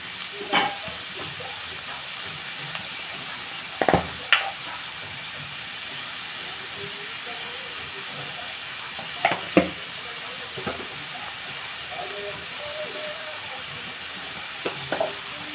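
Onions fry in a pan with salt and turmeric, hissing steadily up close while a spoon stirs and scrapes against the metal in a few short bursts.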